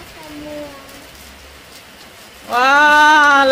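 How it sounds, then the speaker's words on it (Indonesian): Rain falls on a garden and trees as a soft, even hiss, joined halfway through by a loud, high-pitched voice. "Wah, lagi hujan guys."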